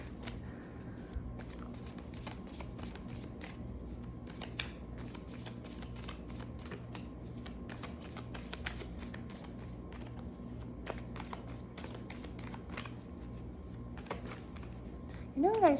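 A deck of cards shuffled continuously at close range, a dense rapid flutter of riffling and snapping that runs steadily throughout, with faint talk in the background.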